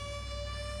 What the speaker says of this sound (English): It's a siren.